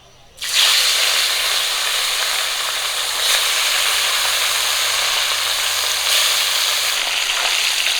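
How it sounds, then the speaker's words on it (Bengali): Rohu fish pieces fry in oil with a loud, steady close sizzle that bursts in suddenly and keeps crackling throughout, with slight swells, alone without talk. "বাকি মাছগুলো আমি একই রকম করে ভেজে নেবো"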